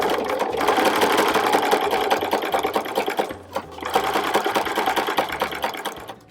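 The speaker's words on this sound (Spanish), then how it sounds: "Ahora ya acolchar en paralelo es muy sencillo porque solo tengo que hacer que esta guía vaya por la costura que he dado anteriormente." A sewing machine quilts parallel seams along a guide, a close, steady rapid needle chatter that runs continuously with a brief dip midway and slows at the end.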